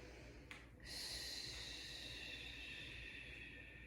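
A deep breath drawn in and let out slowly, close to the mic, with a short sharp intake followed by a long steady exhale and no talking.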